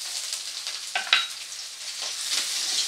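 Chopped garlic and ginger frying in oil in a pan for dhaba-style egg tadka dal, a steady bright sizzle with occasional spatula stirs and small pops, close and alone without talk.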